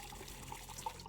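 Pilsner beer pouring from a tap into a glass at a bar in the video game Trüberbrook, a faint, brief liquid trickle with small splashes and no talking.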